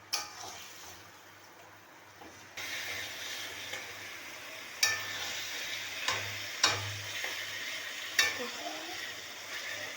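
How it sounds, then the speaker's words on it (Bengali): Meat coated in spices fries in oil in a pan, a soft steady sizzle running throughout, with occasional louder scrapes and knocks of a spoon against the pan as the pieces are turned and stirred. "এরপর আমি মাংসটা আরেক দিকটা উল্টে দিলাম। হালকা ভাজা হবে"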